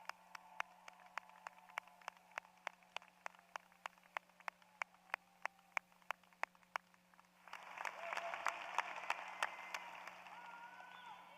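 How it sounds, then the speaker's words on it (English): Graduates of the class of 2022 at a College of Architecture and Design commencement are applauded by the audience, first as sparse, evenly spaced claps, then swelling into a dense, sustained wash of clapping from the crowd. "How about another round of applause for the graduates"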